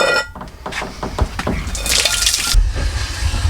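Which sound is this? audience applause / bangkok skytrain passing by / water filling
water filling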